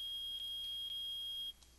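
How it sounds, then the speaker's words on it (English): A steady, high electronic metal detector beep in the video game Phoenix Wright: Ace Attorney holds continuously for over a second, then cuts off, leaving a quiet background. "It's beeping! The metal detector found something!"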